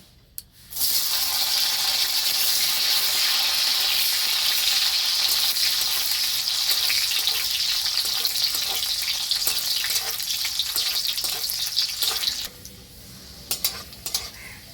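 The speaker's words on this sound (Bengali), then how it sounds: "এবার এই তেলের মধ্যে আমি কাজু কিশমিশটা ভেজে নেব।" Cashews and raisins fry in melted ghee for a home-style sabji dal, a loud, steady sizzle that bursts in abruptly and runs for about twelve seconds, with faint utensil clinks, then drops to a quieter crackle.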